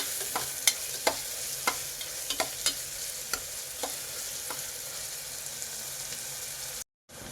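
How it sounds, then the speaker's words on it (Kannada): Onions fry in a pan with a little salt while a spoon stirs them, a steady soft sizzle broken by sharp scraping clicks of the stirring at irregular intervals, then a brief drop to silence near the end. "ನೋಡಿ ಈರುಳ್ಳಿ ಫ್ರೈ ಆಗ್ತಾ ಬರ್ತಿದೆ."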